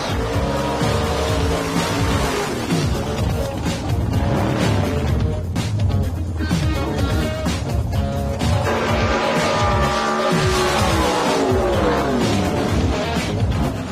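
A nitrous-fed drag race car, a 1957 shoebox, roars loudly and continuously, its engine pitch climbing and falling in repeated revving sweeps with no voices.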